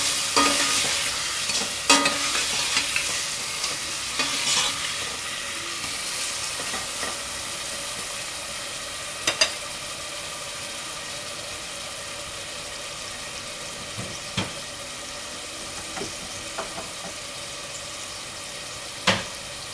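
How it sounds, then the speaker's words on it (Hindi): Chopped chicken sautéing in a pan gives a soft steady sizzle, with a scattering of scrapes and clicks as a utensil stirs it now and then, fairly close, with no talk. "अब इसको भून लेंगे, हल्का सा सोते करेंगे इसको भी।"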